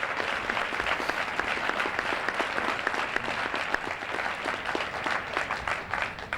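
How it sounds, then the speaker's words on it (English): Audience at an education summit clapping for standing legislators, a sustained even patter of many hands filling the room without pause. "all these people are clapping for you"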